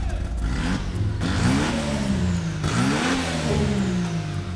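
A catless Mazda RX-7 rotary engine revs up close and loud, climbing in pitch twice in quick succession and dropping back between pulls over a steady rough idle.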